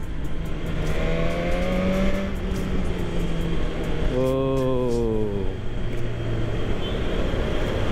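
A BMW S 1000 R four-cylinder motorcycle revs hard, its high-pitched scream rising and falling twice at close range, with one brief exclamation from a rider.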